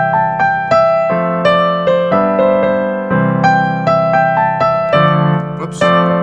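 The piano melody from a song is played on its own, loud and close, as a bright run of struck notes over a steady chordal backing in a bouncy rhythm.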